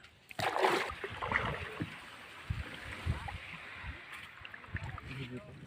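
Oars splash and dip in the water in irregular strokes while people talk close by.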